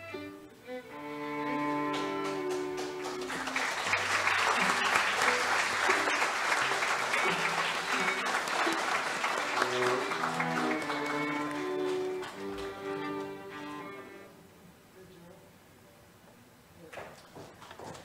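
Audience applause fills a university's 76th founding anniversary ceremony, a dense sustained wash of clapping that swells after a few seconds, holds steady, then thins toward the end, with tonal music or hall sound underneath.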